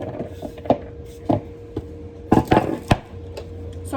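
A knife chops through celery sticks on a cutting board in sharp, irregular knocks, a few single cuts followed by a quick cluster, close and distinct against a steady low background hum.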